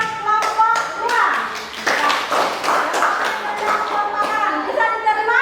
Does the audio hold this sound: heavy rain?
no